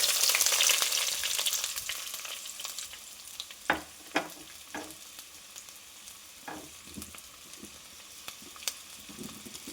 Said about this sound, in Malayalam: എണ്ണ ചൂടായതിന് ശേഷം നമുക്ക് അരിഞ്ഞു വെച്ചിരിക്കുന്ന ചെറിയുള്ളി ഇട്ട് കൊടുക്കാം.